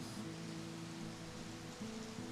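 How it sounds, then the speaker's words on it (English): Rain falls outside an open window while water overflows from a gutter, a steady soft hiss of splashing with a faint underlying hum, continuous and fairly distant. "it's less the rain and more the water overflowing from like my"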